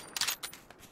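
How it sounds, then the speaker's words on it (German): Gunfire in PUBG: Battlegrounds, a quick, fairly faint burst of a few sharp cracks followed by a softer shot. "Schüsse links von uns."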